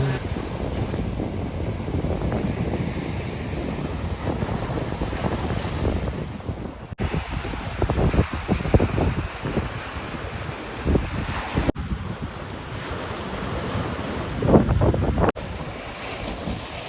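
Steady rush of Gulf of Mexico surf rolling onto a Mexican beach, mixed with gusty wind buffeting the microphone, continuous and fairly loud throughout.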